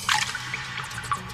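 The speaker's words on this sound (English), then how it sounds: "One drip at a time." Water drips inside a cave, a few small, distinct plinks scattered over a soft background hiss.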